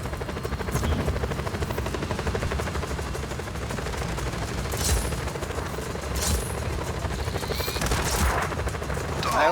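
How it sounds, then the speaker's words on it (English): A helicopter in the video game Just Cause 4 drones steadily throughout amid heavy combat, with bursts of gunfire and explosions cutting in, all loud and continuous. "Helicopter now."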